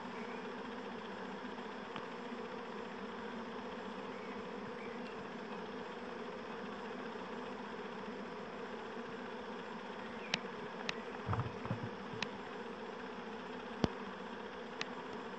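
Steady, dense buzzing of a honeybee swarm fills the air around two trees, with a few faint clicks and a brief low thump partway through.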